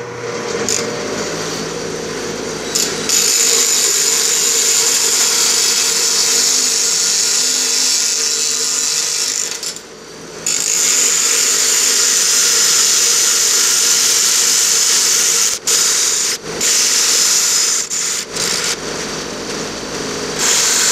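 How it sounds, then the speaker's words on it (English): A loud, continuous high-pitched whine of a spinning drill bit of metal grinding against stones, running steadily with a couple of brief pauses. "go ahead and run it against these stones here. I'm just going to round it off."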